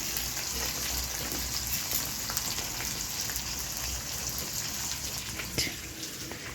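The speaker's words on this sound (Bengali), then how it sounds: "দাদা করছে রান্না, মাংস, আলু ভাজা হয়ে গেছে, পেঁয়াজ বসিয়েছে।" Onions fry in a pan on a wood-fired clay stove, giving a steady, dense sizzling hiss. The sound stays close and constant throughout, with small crackles and no talk.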